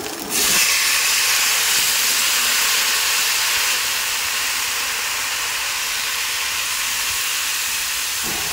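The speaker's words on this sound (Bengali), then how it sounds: "এবার আমি দিয়ে দিচ্ছি গরম জল।" Hot water poured into a pot of basmati rice for basanti pulao sets off a sudden loud hiss that stays strong and steady, easing slightly partway through as the pouring continues.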